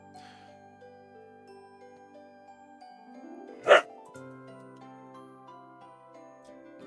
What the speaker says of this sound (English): Sorry, my dogs are really annoying.